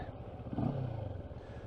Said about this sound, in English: Now the engine's running.